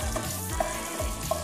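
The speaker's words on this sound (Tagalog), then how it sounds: "Lagay natin ang ating onion. Gisa lang natin hanggang mag-translucent." Onion sizzles as it sautés in a hot pan, a soft, even frying hiss with a few light clicks, heard close and alone.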